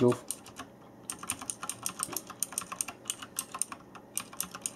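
Rapid typing on a Tt eSPORTS Poseidon Z compact mechanical keyboard: a steady run of crisp, close key clicks following a brief opening thump, heard without talk.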